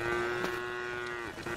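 A cow in the video game Craftopia lets out one long, steady moo with a clear pitch that holds for over a second, loud and near, before trailing off with soft game noise.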